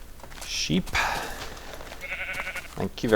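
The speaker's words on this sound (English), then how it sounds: "Sheep." Several short sheep bleats from Minecraft come in bursts, wavering and nasal, spread across the moment with brief gaps and the last one the loudest.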